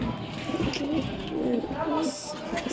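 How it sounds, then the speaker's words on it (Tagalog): Soft, low cooing of pigeons in a loft at dusk, repeated throaty coos close by with a faint chirp near the end, under someone talking. "Ito, kaya tawag sa gantong kalapate."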